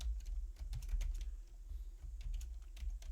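Rapid keystrokes clatter on a computer keyboard, close and continuous with uneven rhythm and a soft low thump under each key press.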